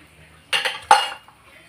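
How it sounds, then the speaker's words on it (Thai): Fried garlic and fried shallots are stirred together in a pan for chili paste, with two close, brief scraping clatters of a utensil against metal and quiet in between. "กระเทียมเจียวครับใส่ลงไปเลยครับ 200กรัม ตามด้วยหอมเจียวนะครับ200กรัมแล้วก็ทำการผัดครับทุกคน"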